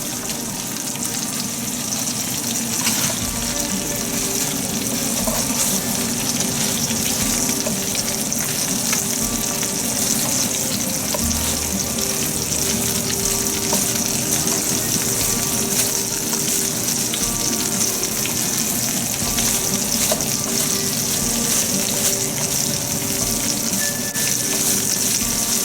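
Broccoli stir-frying with duck in a hot pan for a Thai sesame stir fry, a steady loud sizzle running throughout with occasional stirring scrapes and no talking.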